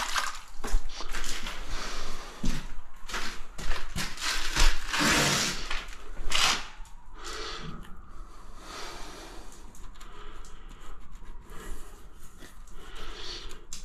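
A tiler washing his hands under running water after laying a shower floor, a steady close splashing rush with scrubbing and slapping bursts that peak midway, then quieter trickles and rubbing toward the end, with no talking.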